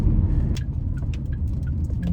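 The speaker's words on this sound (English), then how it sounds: "Damn, look at this traffic." Road traffic heard from inside a car, a steady low engine and road rumble with faint light ticking, close and continuous.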